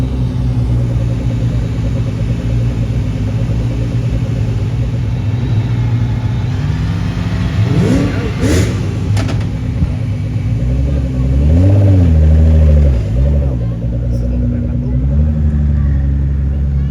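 At a Goodwood hypercar breakfast meet, a Koenigsegg hypercar's engine rumbles loudly and close, then revs up and rises in pitch twice, while people talk nearby.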